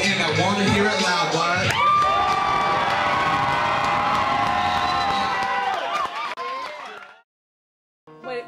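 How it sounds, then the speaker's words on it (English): A crowd at a hip hop show cheers, whoops and shouts loudly and continuously, its voices overlapping close up before the noise cuts off abruptly to near silence, followed by a brief burst of talk. "One more time, give it up for the crowd."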